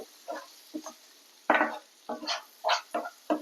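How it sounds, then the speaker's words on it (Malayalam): A spoon stirring chili powder into onions and tomatoes in a pan, about nine short scraping strokes in an uneven rhythm, close and fairly quiet. "നന്നായിട്ട് ഇളക്കി കൊടുക്കുക."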